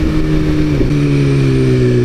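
A BMW S1000RR sportbike with a remapped ECU accelerates hard in fourth gear, its engine a loud, close, sustained whine that climbs steadily in pitch with no speech.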